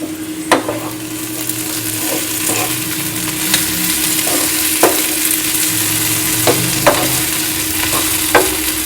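French beans and potato sizzle steadily in a pan as an Indian sabzi cooks, with a continuous frying hiss punctuated by several sharp scraping stirs of a spoon.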